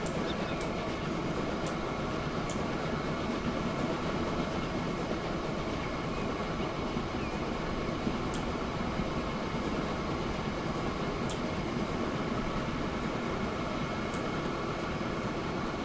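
Train running on rails in the game Transport Fever 2, a steady loud rumble and rolling drone with faint periodic clicks of wheels over rail joints, continuous throughout.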